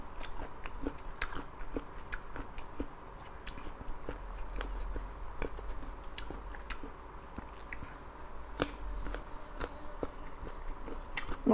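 Close, crunchy chewing of food, repeated sharp bites and munching in an irregular rhythm with faint background noise and no talk.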